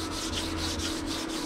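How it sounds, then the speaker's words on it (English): Steady rubbing of a rubber sanding block sliding back and forth over sanding sealer on a 1966 Ford Galaxie 500 rear quarter panel, with a soft rhythmic scratch and a low hum underneath. "it's sanding out pretty easy"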